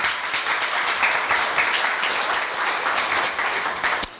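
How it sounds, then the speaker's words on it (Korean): Audience applause at a Korea University staff retirement ceremony, dense and even clapping from a seated crowd sustained throughout, with a single sharp knock near the end. "다시 한번 큰 감사의 박수 부탁드립니다"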